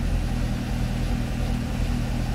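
A Chevrolet Corvette's loud engine idles steadily close by, a constant low rumble with no change in pitch, while it sits in for ABS and traction control fault diagnosis.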